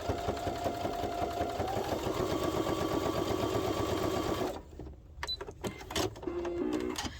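A sewing machine runs a steady, fast top stitch along a children's wallet at a slightly longer stitch length, loud and close for about four and a half seconds before stopping, followed by a few light handling clicks and taps.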